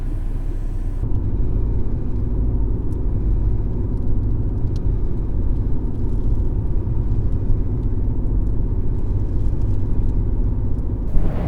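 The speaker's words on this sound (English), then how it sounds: "she's going to drive the next 350 some odd miles" Interior of a car cruising on a highway on a long road trip through Missouri, a loud, steady low rumble of engine and road noise with no talk.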